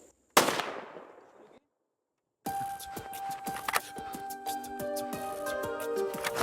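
A single sharp gunshot during a Big Five hunt in Africa cracks loudly and decays over about a second, followed by silence and then a stretch of rustling, clinking outdoor noise.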